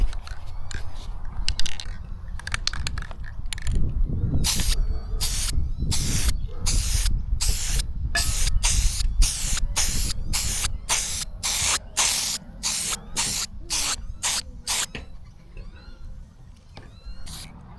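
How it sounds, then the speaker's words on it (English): An aerosol can sprays primer sealer onto a rusty engine mount in repeated short hissing bursts, close and loud, with quicker regular pulses toward the end and rustling handling noises between them. "and then I'll spray the whole thing in a primer sealer."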